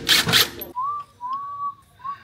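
A person whistles a few short, clear notes in a workshop setting, right after a brief burst of hissing noise.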